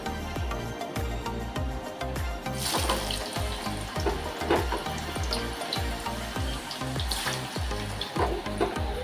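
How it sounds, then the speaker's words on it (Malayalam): Chopped jackfruit sizzles and crackles steadily as it fries in hot oil, a close, continuous bubbling hiss with occasional stirring clatter and no talk. "ചൂടായിട്ടുള്ള എണ്ണയിലേക്ക് നമുക്ക് അരിഞ്ഞ് വെച്ചുള്ള ചക്ക ഇട്ട് കൊടുക്കാം"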